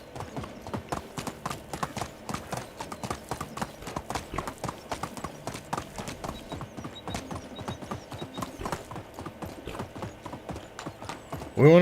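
Steady clip-clop of horse hooves in the Medieval Dynasty video game, a continuous close rhythm of hoof strikes running throughout with a louder sound at the very end.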